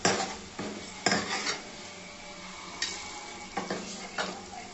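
Tempering for palak dal sizzling in a pan, with a spoon repeatedly scraping and clanking against the metal over a steady frying hiss, several sharp knocks spaced through the stretch.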